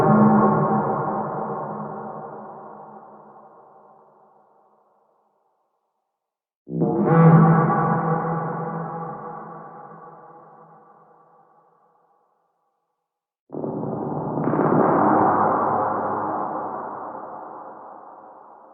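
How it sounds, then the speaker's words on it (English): Robotic machine enemy in the Generation Zero video game: three long, resonant echoing pulses, each striking sharply then slowly decaying with a metallic, sonar-like whirring ring, separated by short silences and heard alone. "Those sounds of whirring machinery and echoing pulses are all that are needed to not only frighten new players"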